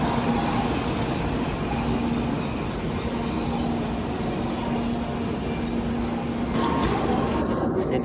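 A Shinkansen Nozomi bullet train on the Tokyo route rolls along a station platform, a loud steady rumble and hiss of wheels and motors that holds throughout and shifts near the end.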